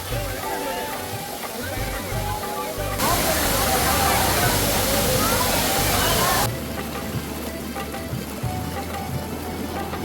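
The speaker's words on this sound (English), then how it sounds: "the sound of rushing water becomes more prominent" Rushing water of Thiruparappu Waterfalls in Kanyakumari, India, cascading down rocky cliffs, swelling into a loud, close roar for a few seconds in the middle before dropping back to a softer wash, with faint voices around.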